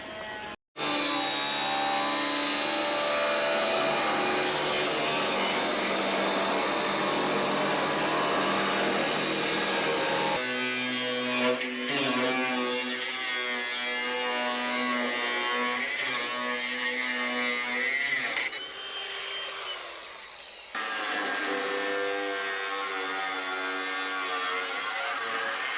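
An electric power tool trims about 10 mm off an oversized steel bow plate on a boat, running loud and steady with a continuous whine, changing pitch as it cuts, then briefly stopping and restarting.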